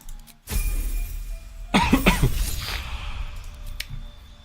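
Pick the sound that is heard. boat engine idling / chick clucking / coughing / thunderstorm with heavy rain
coughing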